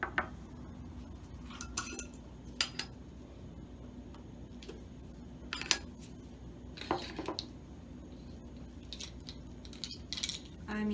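A teaspoon of salt measured into a labeled cup, light metallic clinks and taps of the spoon against the container, scattered and faint in a quiet room.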